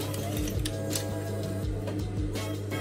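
A sewing machine stitching the tucked-in part of a dress runs with a rapid mechanical ticking hum, close and steady, while pauses and short bursts break the rhythm under a quiet room tone.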